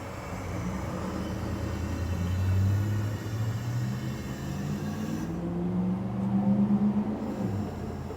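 Air bag suspension on a hot rod with a 4-link and panhard bar raises the car, giving a steady low rumbling hum with a pump-like drone that shifts slightly in pitch, close and continuous with no talk.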